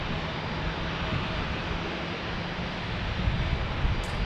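Southwest Airlines passenger jet departing from San Diego airport, a broad steady roar of engine noise heard from a distance, even and sustained with no talking over it.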